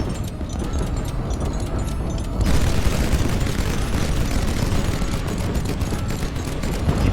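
Airship guns in the HighFleet video game fire in a dense, continuous barrage of booms and rattling shots that grows louder partway through and keeps going without pause.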